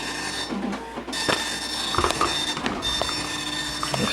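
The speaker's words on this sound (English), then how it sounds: "We're still printing. We can't do anything while it's printing." Dot-matrix style printer printing from an Atari Portfolio handheld over a parallel interface, a steady close mechanical whirr with rhythmic head clicks and buzzing runs throughout, no talk.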